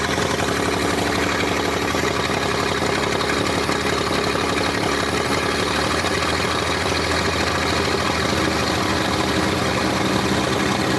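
Steady idle of a 1947 International KB3 truck engine, a continuous even rumble with a fine regular pulse, close and loud throughout, with no voices over it.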